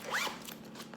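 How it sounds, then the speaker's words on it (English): A quick zipper pull on the inside closure of a moisture-proof map case, one short close rasp lasting under a second, heard alone. "Has an inside zipper closure to keep the moisture out."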